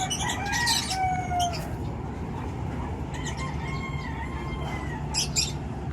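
A US-bred gamecock crows out in the open, its loud, drawn-out calls rising twice over steady background noise, with scattered clucks and squawks from other fowl nearby.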